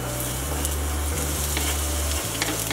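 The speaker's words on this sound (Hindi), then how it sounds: "तेल जो है वो गर्म हो चुका है और यहाँ पे मैंने बारीक काटा है एक प्याज" Finely chopped onion and green chilli stir-fry in hot oil for masala Maggi, a continuous close sizzle with occasional stirring clicks and a low steady hum beneath.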